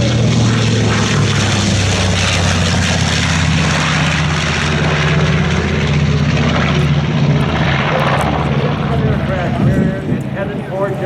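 A propeller airplane drones loudly and steadily overhead at the Oshkosh EAA AirVenture airshow, its low engine hum constant throughout, with voices faintly audible beneath the noise.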